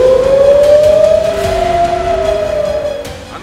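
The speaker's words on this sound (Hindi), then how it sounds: "ईरान के इसराइल पर 200 से ज्यादा मिसाइलें दागे जाने के बाद सायरन बजने लगे।" A loud air raid siren in Israel after an Iranian missile attack wails with a slowly rising and falling tone, sustained and droning, fading slightly toward the end.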